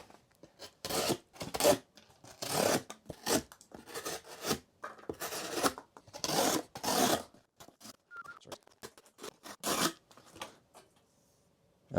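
A coated knife blade slices through cardboard in repeated rasping strokes, about a dozen short scraping cuts with quiet gaps between, close and distinct.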